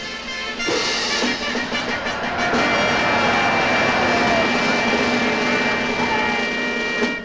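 A cartoon rocket engine roars steadily through a lunar landing sequence in a 1955 animated feature, a loud, sustained rushing blast with a faint rising whine, continuous from start to finish with no talk.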